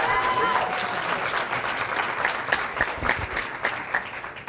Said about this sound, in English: So we need a round of applause for that one right off the rip